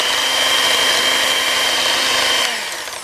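Electric hand mixer beating an egg into pound cake batter, a steady loud whirring drone that runs without a break before easing slightly at the end.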